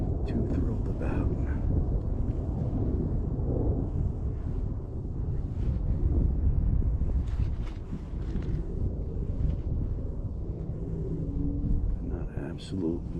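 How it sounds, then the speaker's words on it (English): Crosswind blowing over open water on a striped bass and trout fishing trip, heard as steady, heavy buffeting and rumble on the microphone, with someone speaking through it. "A little bit of a crosswind here, which I'm not too thrilled about."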